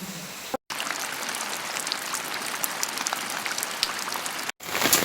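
Steady rain pouring in Jaffna, a dense hiss of drops striking surfaces with scattered louder splashes, continuous and fairly close, briefly cut by two short gaps.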